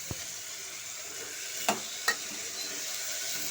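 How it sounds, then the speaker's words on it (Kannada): Peas, field beans, potato, carrot and beans fry in oil in a cooker, giving a steady close sizzle with a few sharp clicks of stirring. "ನೋಡಿ, ಇವಾಗೆಲ್ಲ ನಾನು ಹಾಕ್ಕೊಂಡು ಫ್ರೈ ಮಾಡ್ಕೊಳ್ತಾ ಇದ್ದೀನಿ ಎಣ್ಣೆನಲ್ಲೇ"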